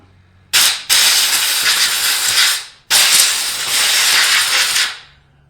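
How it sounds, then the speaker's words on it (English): Two long bursts of brake cleaner spraying from an aerosol can onto a Briggs & Stratton plastic carburetor, a loud close hiss each lasting about two seconds with a short gap between. "That's brake cleaner."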